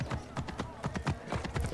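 Rapid hoofbeats of a horse galloping in Assassin's Creed Origins, a steady close drumming clip-clop that runs the whole time, with game ambience underneath.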